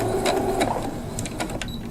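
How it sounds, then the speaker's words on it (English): Sewing machine taking a couple of stitches on quilt pieces for a rose garden quilt, a brief close mechanical whir with light clicking. "Take a couple of stitches"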